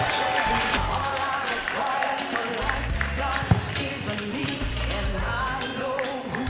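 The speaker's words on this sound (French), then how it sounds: "Applaudissez, applaudissez, applaudissez." Audience at a community gathering in Lubumbashi applauding steadily for several seconds, with a dense spread of claps mixed with crowd noise, background music and some voices.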